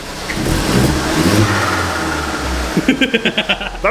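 Vauxhall Corsa VXR engine, freshly rebuilt after being blown, running with a steady mid-pitched drone that rises in a rev, then breaks into a quick series of sharp throttle blips near the end.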